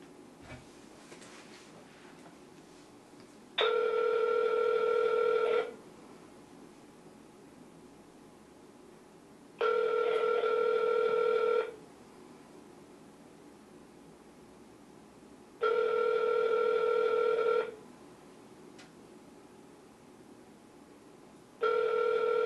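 A telephone rings out on a call being placed, four long even ring bursts spaced by quiet gaps over steady line hiss, clear and close with no talking.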